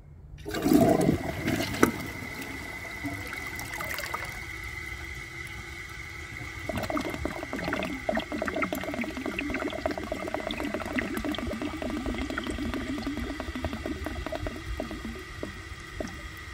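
A low-water-usage 2014 Delta Corrente toilet flushes with a rush of water, then drains in a long, drawn-out gurgle that keeps bubbling at moderate volume.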